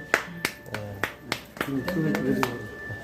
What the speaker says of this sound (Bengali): সবাই আমরা তালি দেই।